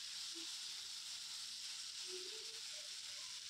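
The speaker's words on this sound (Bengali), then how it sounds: "টমেটোটা গলা গলা হওয়া পর্যন্ত আমি এটাকে নাড়তে থাকবো" A soybean and potato curry with tomatoes hisses and sizzles steadily in a pan while being stirred, with a constant close bubbling hiss and a few faint scraping touches.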